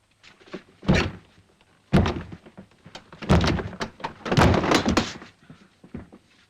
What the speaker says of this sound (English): Can you break down the door?